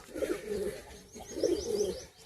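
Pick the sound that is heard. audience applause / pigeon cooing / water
pigeon cooing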